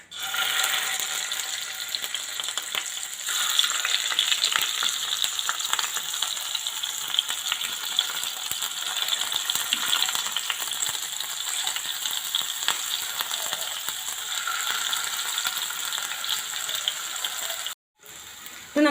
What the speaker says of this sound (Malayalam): ഇനി ഇതുപോലെ ബാക്കിയുള്ള ചിക്കൻ നമുക്ക് വറുത്തെടുക്കാം.